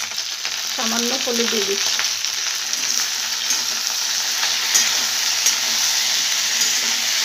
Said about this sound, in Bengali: এবার এই কেটে রাখা চিচিঙ্গাটা দিয়ে দিচ্ছি।